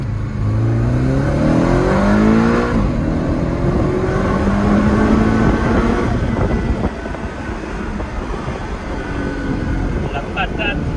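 A Porsche 718 Cayman accelerating hard, its engine note rising through sweeping pitch climbs with a gear change partway, loud and close from inside the car.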